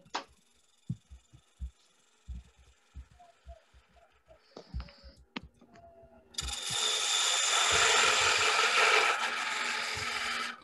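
Woodturning lathe squares the end of a birdhouse blank: scattered knocks and taps at first, then a sustained loud rasping cut for several seconds.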